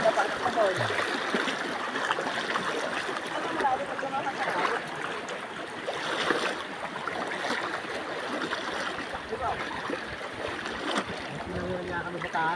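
River current rushing steadily near Alfonso Castañeda, Nueva Vizcaya, a broad continuous wash of flowing water heard close and loud throughout, with voices talking over it now and then.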